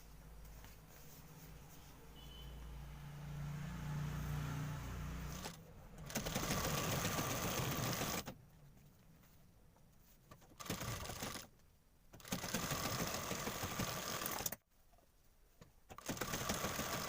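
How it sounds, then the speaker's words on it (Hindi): A sewing machine runs seams on a gown in several separate bursts of steady motorized whirring, broken by quiet pauses between runs. "पलटाने के बाद उसके ऊपर से सिलाई लगा देंगे।"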